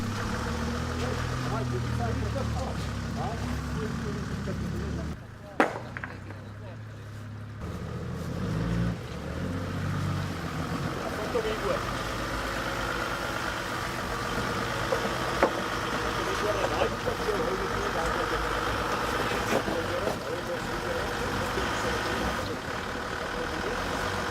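A 4WD off-road vehicle's engine runs as the vehicle climbs out of water at an off-road event, a continuous rumbling drone with a brief sharp knock and dip midway, and a voice talking over it.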